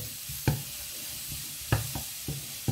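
Celeriac risotto stirred in a sizzling pan: a soft background sizzle broken by a few distinct scraping strokes of the spoon, close and fairly quiet, with no talking.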